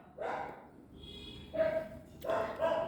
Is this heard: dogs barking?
yes